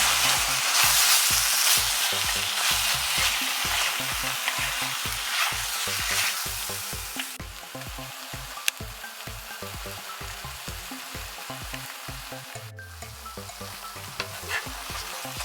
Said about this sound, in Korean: 양념이 된 목뼈 닭발을 넣고 함께 볶아주어요